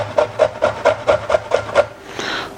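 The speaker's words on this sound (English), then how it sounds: "So we just want to grate this root up." Frozen ginger root scraped across a grater in eight even, close strokes about a quarter second apart, each a short raspy rub, followed by a brief softer scuffing.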